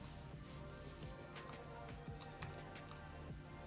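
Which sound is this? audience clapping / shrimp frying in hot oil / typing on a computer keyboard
typing on a computer keyboard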